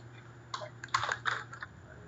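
A few quick, light keystrokes on a computer keyboard come in a short, irregular burst, faint and close, over a steady low hum.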